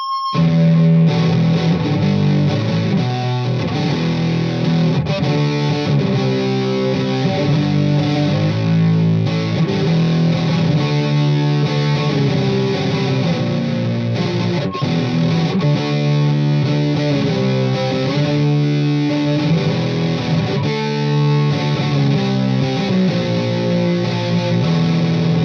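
A G&L Fallout guitar's P90 pickup roars through a Metal Zone distortion pedal, heavily saturated, loud, and continuous as a riff plays alone for the whole stretch.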